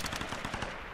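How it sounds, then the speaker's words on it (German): A burst of rapid automatic gunfire from an enemy shooter in the Tomb Raider video game, fairly faint, with quick, evenly spaced shots over about a second. "Von wo ballert der denn?"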